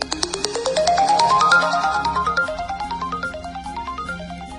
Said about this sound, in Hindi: आप देख सकते हैं कुछ इस तरह की रिंगटोन्स हैं।